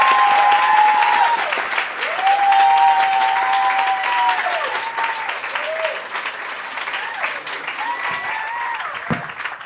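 An audience at a literary talk with Chimamanda Ngozi Adichie applauds loudly to welcome the speakers, sustained clapping and cheers with voices mixed in, slowly tapering toward the end.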